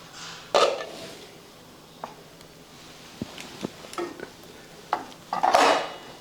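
A cake tin is set into a preheated pot for stovetop baking: scattered metallic clinks, knocks and scrapes of cookware at close range, with a couple of louder clattering bursts and quiet gaps between them, no talk.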